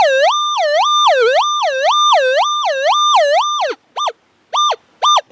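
A Minelab Manticore metal detector sounds its pinpoint tone over a big piece of foil, a loud, close, warbling electronic tone that rises and falls steadily, then breaks into three short separate pulses.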